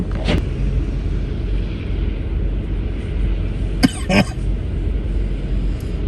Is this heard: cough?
yes